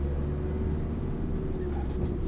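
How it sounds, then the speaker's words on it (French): Steady car engine drone from inside a learner driver's car pulling away in second gear, a continuous low hum at constant loudness with no talk over it. "On accélère."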